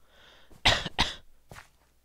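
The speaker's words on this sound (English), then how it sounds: "Cough." A person coughs during Minecraft gameplay: two loud, hoarse bursts in quick succession, then a fainter third cough, all close and with no talking.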